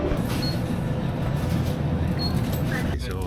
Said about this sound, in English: So I think I'm on the right train.